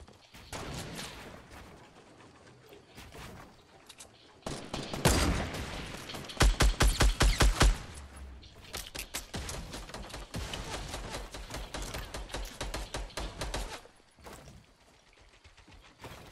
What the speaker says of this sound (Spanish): Es un poco random disparar así